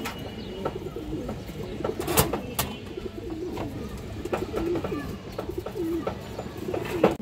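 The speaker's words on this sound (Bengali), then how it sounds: "এই যে দেখেন মাদি কবুতর" A female Muslodom pigeon coos in low, soft rolling calls at close range, repeating irregularly over a background of other birds' chirps and occasional sharp clicks.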